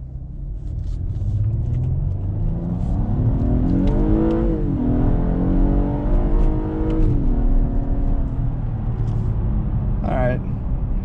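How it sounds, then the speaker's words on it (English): A 2020 Acura TLX A-Spec in sport mode accelerates to about 40 mph, its engine note climbing steadily in pitch through the gears with a brief dip at a shift, loud and close from inside the cabin. "I just want you guys to hear how great this Acura sounds in sport mode."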